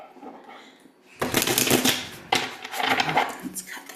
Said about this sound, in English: I'm going to shuffle it again.